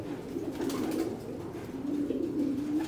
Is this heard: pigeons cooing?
yes